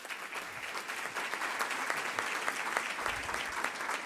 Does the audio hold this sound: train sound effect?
no